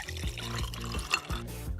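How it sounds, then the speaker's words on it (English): Hot water pours over a lemon, a short close splashing and trickling stream with bubbly gurgles and a few sharp drips, heard alone without talk. "Pour hot water over a lemon."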